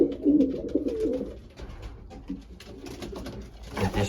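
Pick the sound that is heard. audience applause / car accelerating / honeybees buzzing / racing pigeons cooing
racing pigeons cooing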